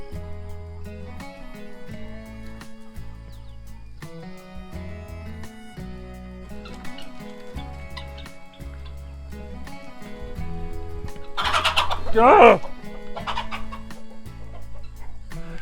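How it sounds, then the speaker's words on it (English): An aggressive chicken clucks repeatedly while attacking, with short irregular clucks over low background noise and a louder, sharper flurry of sound near the end. One brief spoken word can be heard. "nothing like being attacked by a maniacal chicken"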